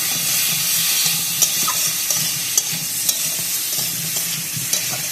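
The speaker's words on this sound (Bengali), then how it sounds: "এটা একটু কষিয়ে দিয়ে দেবো আদা আদাটা খুব বেশি কথাবো না" Loud steady sizzle of cauliflower masala with ginger frying in a pan, stirred now and then with soft scraping clicks over a constant hiss, close up with no voices.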